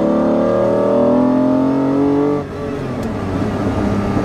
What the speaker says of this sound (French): Le son de l'admission est extra, c'est rauque.